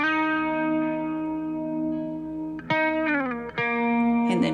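Electric guitar through a VC2A compressor and the Ableton Blues amp with no reverb plays a long sustained chord, then a few slides and shifted notes near the end, close and dry.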